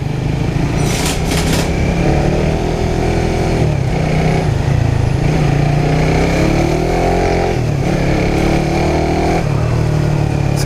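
A Raider R150 motorcycle accelerates in gear along a road, its engine note climbing steadily and loud and close, with brief dips at gear changes.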